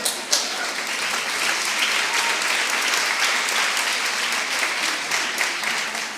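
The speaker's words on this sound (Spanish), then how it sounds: "Rápidamente, un aplauso para Sonia" An audience at a talk on communication gives a loud, sustained round of clapping that holds steady for about six seconds, dense and close with no gaps.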